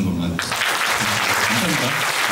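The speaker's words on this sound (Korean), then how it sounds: "우리 롤링홀 관계자 여러분들 모두에게 박수 한 번만" Concert audience in a rock hall bursts into applause partway through, a dense roar of clapping rising sharply, while a voice talks over the start and continues beneath it.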